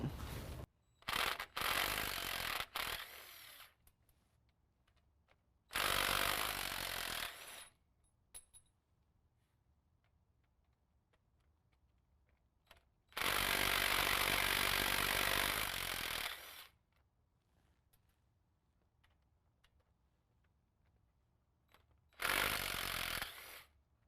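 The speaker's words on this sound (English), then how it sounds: "Now we're going to use an 8mm to remove our drive shaft." An 8mm power ratchet unbolts the drive shaft on a 2017 Ford F-250 Super Duty during a lift kit install, whirring in four loud bursts of a few seconds each, separated by quiet pauses with faint clicks.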